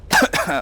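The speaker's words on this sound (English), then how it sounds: "Sorry about coughing into the mic." A single loud cough, close to the mic, in two quick bursts.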